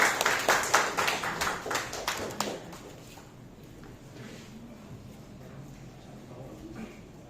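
An audience at an indoor book discussion event applauds for about two and a half seconds. The clapping is dense and fairly close, then fades into quiet room tone.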